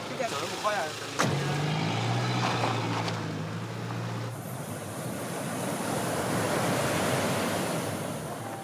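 Ocean surf rolls onto a beach near Accra in the evening, a broad continuous wash of breaking waves with wind, after a brief passing engine and a few voices early on.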